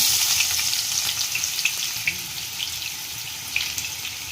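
Thinly sliced onions frying in two tablespoons of hot oil, a loud, dense, steady sizzle with scattered crackles heard close up.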